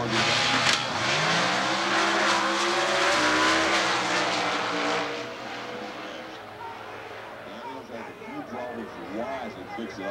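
Competition Eliminator drag race at Atlanta in 1992, an altered car with a 317-cubic-inch Buick-head small block roaring and revving hard, then fading into the distance, with an announcer talking over it throughout.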